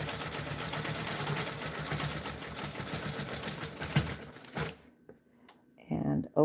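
Sewing machine stitching in the ditch, a dense steady mechanical whir for about four seconds that stops abruptly, followed by near silence and brief handling noises.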